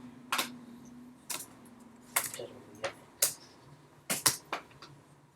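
Sparse keystrokes on a computer keyboard during data entry in SAP, about nine sharp, separate clicks spread over five seconds over a faint steady hum.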